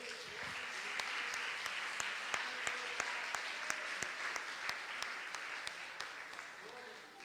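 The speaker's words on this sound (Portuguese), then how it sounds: "Vamos aplaudir o Senhor?" Church congregation clapping together after a sermon, a dense steady applause with sharp individual claps standing out throughout, filling the room at an even level.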